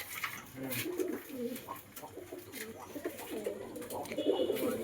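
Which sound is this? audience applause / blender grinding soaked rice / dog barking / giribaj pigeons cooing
giribaj pigeons cooing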